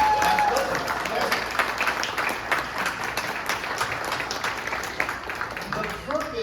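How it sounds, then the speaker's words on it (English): An audience at a California Libertarian Party presidential debate breaks into sustained, dense applause, a loud wash of many hands clapping that holds steady throughout and thins slightly at the end. "Yes, you can clap, go ahead."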